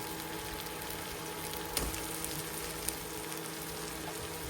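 Pieces of hilsa fish cooking in a pan of mustard masala give a faint, steady sizzle and bubbling, with a couple of soft clicks from utensils.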